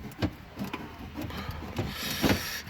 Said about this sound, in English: I'm going to pull the radio forward. It's a little tight, but it comes right out.